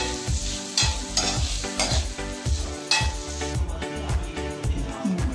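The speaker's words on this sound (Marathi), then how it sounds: "हे असं सगळं मिश्रण भाजून घ्यायचं आहे." Malvani masala mixture with coconut, fennel and coriander seeds dry-roasting in a pan, heard as repeated rhythmic scraping and stirring strokes with a light sizzle underneath, close and clear with no talk.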